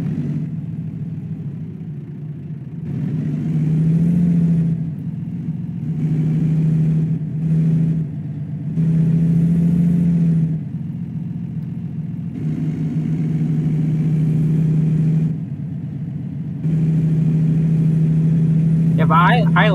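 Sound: truck engine driving in American Truck Simulator video game

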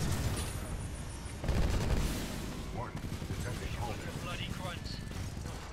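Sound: gunfire in the Titanfall 2 video game

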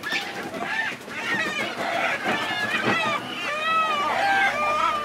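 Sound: roosters squawking while being moved

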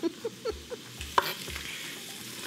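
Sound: onion and chorizo parrillero frying in a pan

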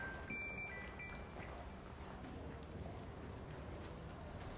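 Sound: rain falling

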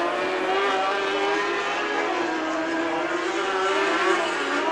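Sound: dirt track race cars racing at Antioch Speedway

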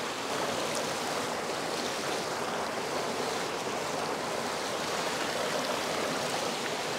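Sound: river stream flowing at Sittong riverside

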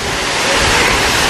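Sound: Huatancoy waterfall

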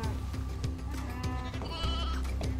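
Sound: giant sheep bleating in video game Final Fantasy XIII-2

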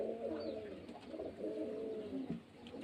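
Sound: pigeons cooing

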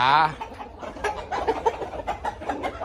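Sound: chickens, roosters clucking

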